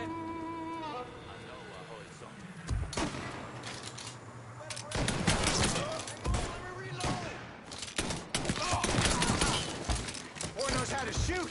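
Gunfire in the Mafia III video game: bursts of rapid automatic shots and single loud cracks, dense and overlapping in the second half, with a player talking between volleys.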